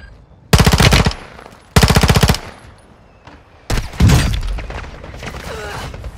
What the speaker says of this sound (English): Watch out up there, they're shooting them.